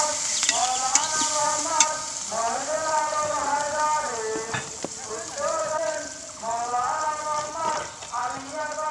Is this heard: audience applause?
no